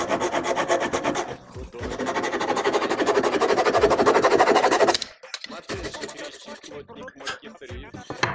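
A hand saw cuts excess wood from a handmade wooden organizer, rasping in rapid back-and-forth strokes close by, first in a short burst, then a long sustained run, then a few slower scraping strokes.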